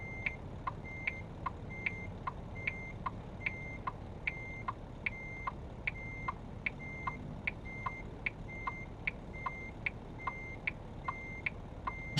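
A truck backing a trailer in American Truck Simulator, its reversing alarm beeping steadily and evenly over a low engine rumble for the whole stretch, with no voices.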